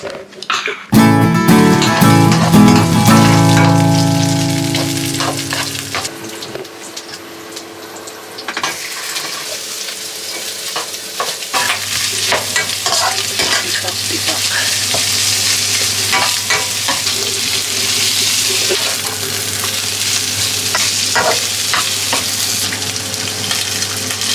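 Garlic and onion hit a hot pan and sauté with a loud initial sizzle that settles into steady frying, with stirring scrapes and clinks throughout at close range.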